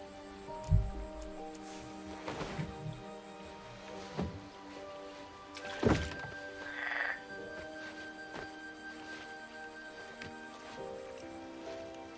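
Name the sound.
frogs croaking in King's Quest video game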